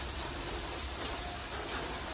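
Garlic, onion and curry leaves sizzle in hot oil in a pan, giving a steady, continuous hiss with no talk over it.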